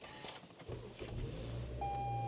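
A Toyota RAV4 powering up, with soft clicks and a whir as it starts, then a low idle hum and a steady electronic tone from the system booting, all fairly quiet.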